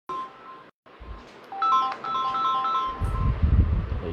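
A mobile phone ringtone plays a repeating melodic tone pattern in a live online maths class, fairly loud, with a soft rumble of handling noise near the end.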